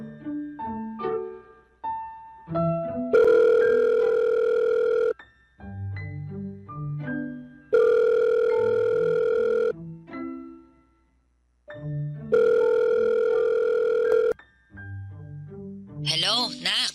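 A cellphone rings with a melodic ringtone, the same bright phrase repeating three times, loud and close, with short pauses between rounds and no talking.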